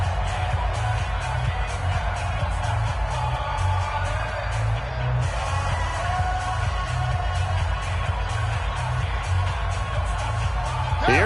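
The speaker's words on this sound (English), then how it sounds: "this crowd gets up making some noise" Steady stadium crowd roar fills a PS4 NFL football game in the fourth quarter as the Cowboys face third and short, a constant wash of noise with a commentator talking over it.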